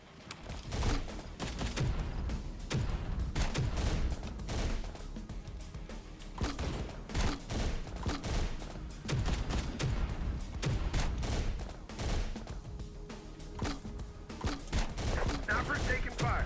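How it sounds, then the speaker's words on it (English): Sniper and rifle gunfire in the Terminator: Dark Fate Defiance video game, rapid overlapping shots and bursts in a continuous battle din, with a voice speaking over the combat. "Snipers taking fire."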